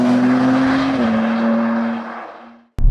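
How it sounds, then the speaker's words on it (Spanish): A 2024 BMW M3 Touring in Sport mode with 4WD accelerates, its engine holding a loud, steady drone that dips slightly in pitch partway through before cutting off abruptly near the end. "Ahora ya sí que ya notas como que el coche, por arte de magia, empieza a ir más rápido."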